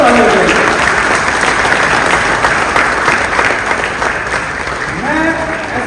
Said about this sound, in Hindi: आज इनके लिए जोरदार ताली बजाएं,